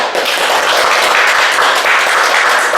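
Loud, dense applause from an audience at an instructor certification lecture in Korea, a continuous wash of many hands clapping close by and evenly.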